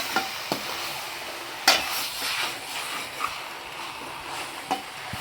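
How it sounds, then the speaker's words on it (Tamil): Steady sizzle of chicken with chili and turmeric powder frying in a pan, with a few sharp scrapes and clicks of a utensil stirring through it. "மிளகாத்தூள், மஞ்சத்தூள் போட்டதெல்லாம் ஒன்றா சேர்த்து சிக்கனோட ஒன்றா சேர்த்து மிக்ஸ் பண்ணி விட்டுருங்க"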